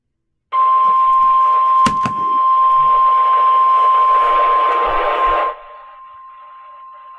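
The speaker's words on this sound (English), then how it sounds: "you might have just heard that alarm in the back" Electronic alarm blaring steadily at a single tone for about five seconds in the background of a severe weather storm-coverage broadcast for Wayne County, loud and continuous, then cutting off abruptly.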